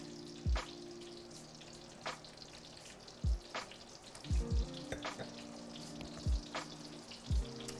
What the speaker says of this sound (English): Those butter sizzles.